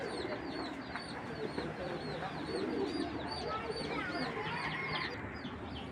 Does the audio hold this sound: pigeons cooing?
yes